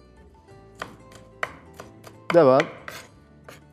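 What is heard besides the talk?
knife chopping onions finely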